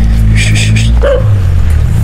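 A dog gives a few short barks at a distance over a constant low engine-like rumble, with no talking.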